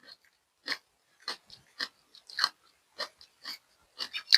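Someone eats stir-fried kale with crispy pork: close, crisp crunching bites and chewing arrive in a steady, irregular rhythm with quiet gaps between them, and no talking.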